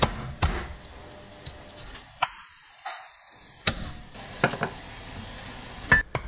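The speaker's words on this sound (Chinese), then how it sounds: "再给它剁成块。" Cleaver chopping cooled, cooked salted duck legs into pieces on a board, sharp separate chops at an uneven pace, some louder than others, with short quiet gaps between them and nobody talking.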